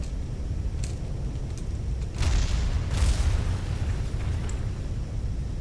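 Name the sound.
pieces of crashed spacecraft exploding, video game Kerbal Space Program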